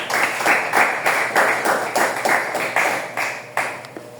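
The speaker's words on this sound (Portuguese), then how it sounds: "Palmas para o Rei da Glória." A church congregation claps in a steady rhythmic beat, about two claps per second, full and close, like unison hand-clapping in a worship service, with no talk over it.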